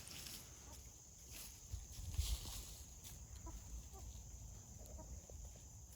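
Chickens near a backyard chicken coop make soft, scattered clucks over faint outdoor noise and a steady high insect-like whine, with no talking.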